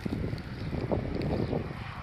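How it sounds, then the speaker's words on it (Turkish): Gusty wind rumbles and buffets against the microphone in uneven pulses, a low blustery roar that continues throughout. "bugün uçurulacak hava değil de aşırı rüzgar var"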